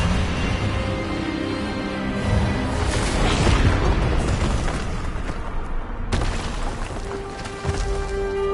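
Expelliarmus spell effect in the video game Hogwarts Legacy, a loud booming magical burst swelling over several seconds, with a sharp cut and a renewed rumble afterward.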